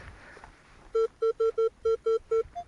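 Metal detector signal tone from a coin-hunting sweep over a field: a run of eight short, clean beeps in an even rhythm, loud and close, with a slightly different final chirp and no talk.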